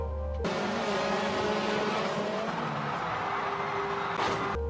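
A Subaru rally car, driven by Travis, makes an extreme jump of about 82 metres, its engine screaming loud and near with shifting pitch throughout, cut off abruptly at both ends, with a brief rushing burst near the finish.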